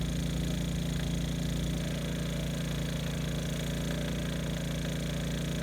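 A small generator powering an RV air conditioner runs with a steady, unbroken drone, muffled and heard from inside the back of the RV about twenty feet away.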